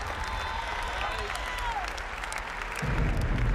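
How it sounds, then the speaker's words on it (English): Crowd at the E3 2018 Sony stage show in Los Angeles breaks into applause and cheering, starting as a softer murmur with voices over it and then swelling sharply into loud clapping near the end. "That got a response from the crowd."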